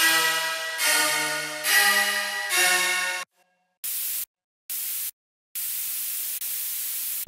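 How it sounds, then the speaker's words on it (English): A sustained, washed-out guitar chord fades into silence, followed by several short, even bursts of loud white-noise hiss separated by gaps. "Then I added a guitar with a lot of reverb and some white noise."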